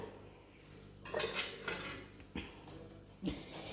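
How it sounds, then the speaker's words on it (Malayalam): A spoon clinks and scrapes against a metal pot in short bursts, a few separate stirring strokes with quiet pauses between. "പിന്നെ ഇതെല്ലാം കൂടെ കൊണ്ടുപോയി ഒന്ന് മിക്സ് ചെയ്യട്ടോ"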